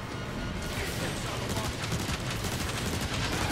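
Rapid sustained fire from a photon burst rifle in Transformers War for Cybertron, a dense, loud stream of energy shots running without pause over game ambience.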